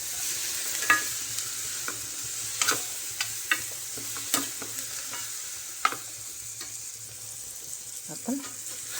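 Cauliflower frying in a pan for a dry vegetable dish, with a soft steady sizzle and repeated clinks and scrapes of a spoon stirring, close and moderately quiet.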